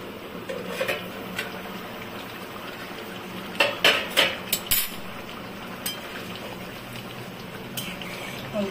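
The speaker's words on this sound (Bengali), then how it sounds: "এবার আমি ঢাকা দিয়ে দিব।" A metal lid set onto a pot of mutton curry on the stove gives a few sharp clanks and rattles around the middle, over a steady low kitchen hiss.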